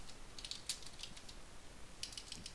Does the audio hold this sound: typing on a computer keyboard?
yes